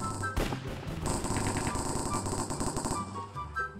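Rapid automatic gunfire in a Minecraft game: loud dense bursts of synthetic shots close by, with a short pause and then a sustained rattling volley, over game background sounds.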